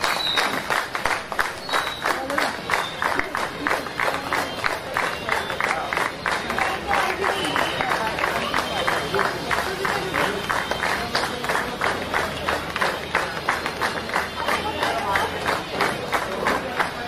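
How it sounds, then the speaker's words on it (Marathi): Continuous rhythmic clapping from a large crowd at a Buddhist dhamma initiation ceremony, steady and loud throughout with dense babble and cheering mixed in. "जोरदार टाळ्या वाजवा"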